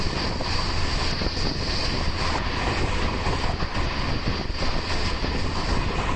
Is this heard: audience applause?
no